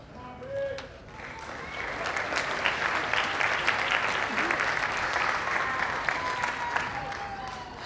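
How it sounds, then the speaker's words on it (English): An audience applauds graduating students of the class of 2017 at a Native American student recognition event, steady dense clapping that swells after a brief opening and continues loud throughout, with faint voices mixed in. "Let's give a round of applause for the future graduating class of 2017."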